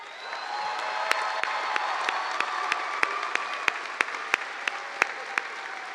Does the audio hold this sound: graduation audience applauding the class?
yes